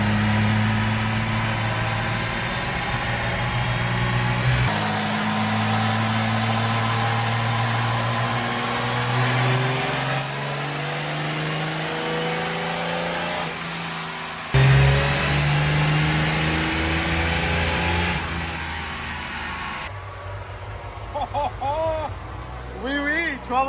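A Cummins diesel truck with dual CP3 pumps and twin turbos runs hard on a dyno, its deep engine note climbing in long sustained pulls with a rising turbo whistle, then dropping off, as people talk nearby.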